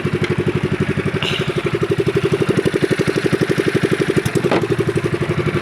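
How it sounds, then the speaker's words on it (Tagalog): A misfiring motorcycle engine idles with a rough, uneven rapid chug, close and loud, its stumbling pulses steady through the whole stretch with no talking. "Palyado ang ating makina"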